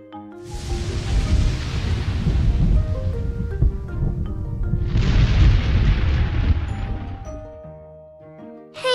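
Two heavy thunder booms from a storm, each a sharp onset followed by a long rumbling decay, loud and close, with faint music around them.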